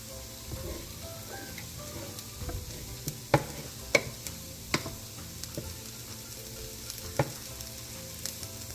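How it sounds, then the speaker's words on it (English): Chopped potatoes fry in oil with a steady, soft sizzle that runs throughout. Occasional sharp ticks and clicks from a utensil or the pan rise above it. "I'm gonna go add these to the oil and get those cooking"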